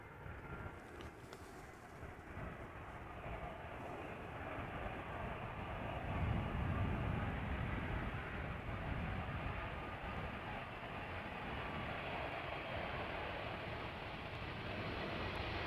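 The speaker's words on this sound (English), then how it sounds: "Another 777-200 ER is following it, arriving from Guayaquil in Ecuador." A Boeing 777-200ER arriving at Amsterdam Schiphol Airport, a broad distant jet roar that swells and holds steady, heard alone without talk.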